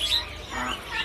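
Caged birds at a bird market kiosk give a few high, thin squawks and chirps at moderate distance over a steady background murmur.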